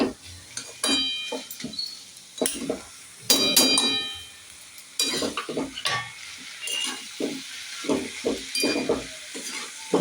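Dalia (broken wheat) going into a hot pan and being stirred, giving a busy run of sizzling and repeated scraping, clinking strokes that come close and fairly loud for the full stretch, with no voices.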